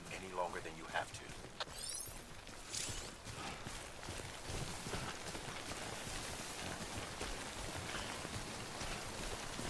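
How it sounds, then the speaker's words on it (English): Steady rain falling in the video game Death Stranding, a continuous dense patter of drops with faint footstep-like clopping early on, heard at a constant level throughout. "Don't stay out in the rain any longer than you have to."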